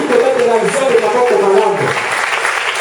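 Church congregation applauding and acclaiming together during a service, a dense, steady wash of clapping with many raised voices cheering and singing over it, sustained throughout.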